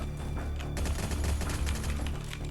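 Rapid bursts of gunfire in the video game Free Fire, dense crackling shots packed closely together across the whole short stretch, loud and close.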